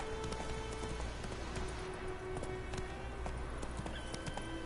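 Roach, a horse in The Witcher 3 video game, gallops with steady, rapid hoof clip-clops, close and continuous, set against a constant patter of rain.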